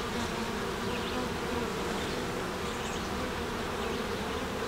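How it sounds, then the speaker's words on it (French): Honeybees buzz steadily in a dense, close hum inside a hive where a virgin queen is piping, the drone continuous and fairly loud with faint higher tonal traces above it, no one speaking. "si j'entends la reine chanter"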